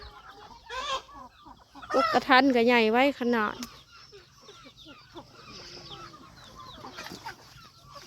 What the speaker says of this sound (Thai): ไก่เนาะ